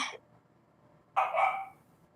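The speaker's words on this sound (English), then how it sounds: "and then like there was silence and a dog barking" A dog barks twice, a short burst at the start and a louder, fuller one about a second later, against near silence in between.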